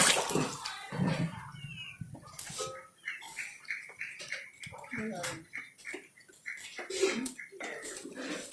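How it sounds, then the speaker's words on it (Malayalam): Ghee pours into a large copper vessel of biryani rice, giving a wet, trickling flow with small ticks and drips that comes and goes beneath people chatting close by. "നെയ്യ് ഒഴിക്കുകയാണ്."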